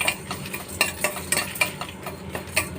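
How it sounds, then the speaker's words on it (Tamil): Coriander seeds, red chilies and garlic dry roasting in a pan with no oil, heard as a steady rustling scrape of a spoon stirring with regular clinks against the pan, close up and without talk. "இது நம்ம எண்ணெய் ஒன்றும் போடாமல் நம்ம ட்ரையாக ரோஸ்ட் பண்ணிக்கலாம், வறுத்து எடுத்துக்கலாம்"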